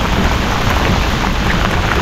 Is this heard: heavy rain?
yes